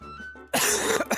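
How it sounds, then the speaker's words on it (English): A single harsh cough bursting out after a moment of quiet, close and loud, followed by a second shorter cough. "I developed a cough."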